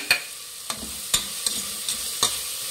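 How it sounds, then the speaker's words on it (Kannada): Mint and coriander leaves frying in a pan, a quiet sizzle broken by six sharp spatula scrapes and knocks at irregular intervals, close by. "ಇದು ಚೆನ್ನಾಗಿ ಫ್ರೈ ಮಾಡಬೇಕು"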